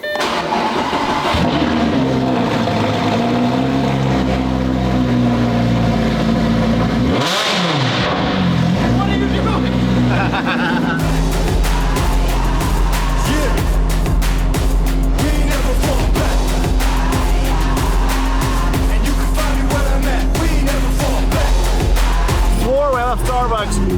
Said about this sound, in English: I love cold starts, and I hope this car starts.